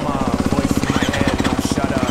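Motocross bike engine at a supercross track in Técou, a loud, close, rapid pulsing rhythm of fast regular firing beats, with faint voices in the background.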